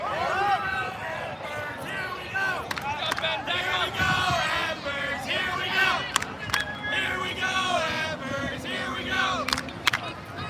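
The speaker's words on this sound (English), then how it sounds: "Crowd on their feet," Quidditch spectators on their feet cheering and shouting, a dense excited crowd roar with whoops and yells rising and falling, while a commentator talks over it.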